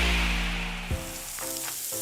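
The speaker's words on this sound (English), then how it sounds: "That's the sound of James adding long-lasting Gain scent boosters to his laundry this morning" Gain scent booster beads poured into a laundry load, a continuous grainy rattling hiss close up, with a soft thump partway through and scattered pattering afterward, alone with no talking.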